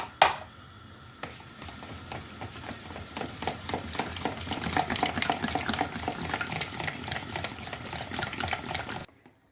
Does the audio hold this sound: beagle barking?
no